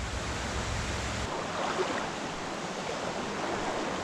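A river runs steadily downstream where it meets another river, a broad constant rush of water with no breaks and no voices.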